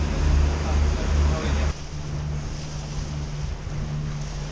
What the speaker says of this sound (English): We have around 20 knots of wind.